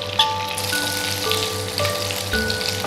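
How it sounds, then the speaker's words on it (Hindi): Cumin seeds crackling and sizzling in hot oil in a pan, a steady fizzing crackle with scattered pops, close and continuous, with a faint hum behind it. "अब हम इसमें जीरा डालेंगे।"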